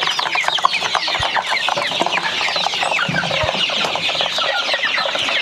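Chickens clucking close by in a busy, continuous chorus of overlapping clucks and squawks.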